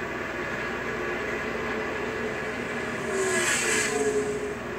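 NASCAR Truck Series race trucks racing at Kentucky, heard as a steady, distant engine roar with a louder pass swelling briefly near the end, wrapped in broadband track noise.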